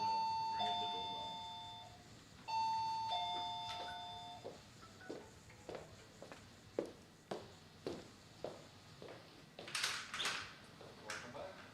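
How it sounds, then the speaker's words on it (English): A doorbell chimes indoors in two ringing bursts of bright sustained tones, followed by a run of soft footsteps and small knocks as someone moves toward the door. "there's a ring at the doorbell"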